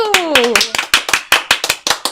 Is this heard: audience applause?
yes